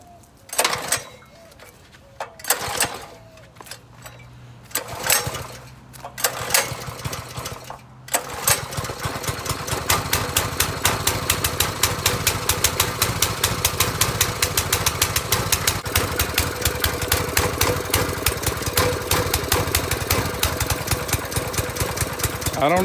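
A Troy-Bilt 3400 PSI gas pressure washer engine cranks with a few short sputtering attempts, then catches and runs steadily with a loud, rapid putter that holds to the end.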